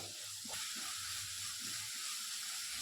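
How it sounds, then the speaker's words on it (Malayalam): Chopped onions sauté in a hot pan, browning toward golden for chicken cutlets, giving a steady, even sizzle with soft hiss throughout and no pauses. "ഇനി നമുക്കിത് നന്നായിട്ടൊന്ന് വഴറ്റിയെടുക്കാം"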